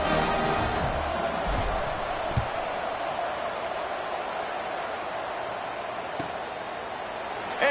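Broad, steady crowd roar in a college football stadium before kickoff in NCAA '26, a dense wash of cheering with a thud or two, and no clear talk.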